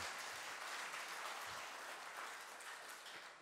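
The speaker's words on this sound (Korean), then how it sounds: "박수 한번 쳐주세요." Congregation applause in a church during a Sunday afternoon service, a steady, even wash of many hands clapping at moderate distance for a few seconds with no talk over it.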